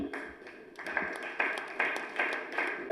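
Quiet applause from an audience at a foundry day evening celebration, a few hands clapping in sparse, rhythmic bursts that sound somewhat distant.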